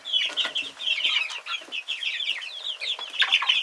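Young chicks stepping out into their run for the first time, a busy chorus of overlapping high peeps and clucks that keeps going without a break, close by and fairly loud.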